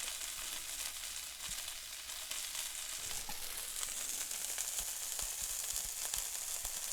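Pork frying in oil in a pan gives a steady, close, broadband sizzle that holds through the whole stretch, with occasional small pops and crackles and no talking.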